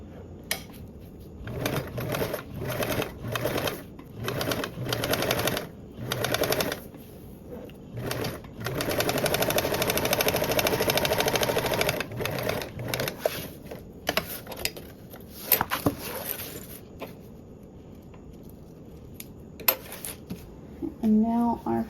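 Domestic sewing machine top stitching a pressed seam on a duffle bag, heard as a series of short stitching bursts followed by one longer steady run, with pauses and light handling noises between.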